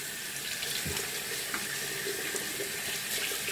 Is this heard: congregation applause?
no